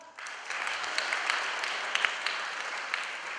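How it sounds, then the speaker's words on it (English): An audience applauds actor Michael Sharman as he comes out in a Shakespearean costume, a brisk, steady clapping with a few sharper claps standing out, starting abruptly after a brief quiet moment. "Clap!"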